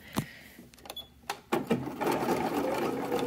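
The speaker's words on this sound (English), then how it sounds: "I'm going to stitch through the elastic, just leaving it flat, make sure there's no folds under it." A sewing machine stitches through flat elastic at the side seam of a lingerie pajama set, with short starts and stops at first, then a steady, close, continuous run of stitching.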